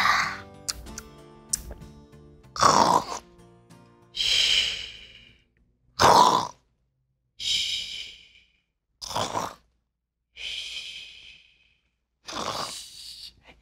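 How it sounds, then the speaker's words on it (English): A person snores slowly and rhythmically, roughly seven loud nasal snorts and breaths evenly spaced with silent gaps between, heard close and alone. "It sounds like she's snoring."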